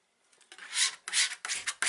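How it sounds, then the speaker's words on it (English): A scraper rasps old wallpaper paste off a wall in four or five close, harsh strokes that come in quick bursts. "you're going to have to clean off the old paste with a scraper"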